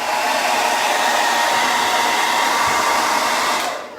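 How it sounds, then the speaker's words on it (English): A hair dryer blows steadily on a foil craft project, a loud, close, continuous broadband whoosh held for several seconds before trailing off at the end. "Let's dry this real quick."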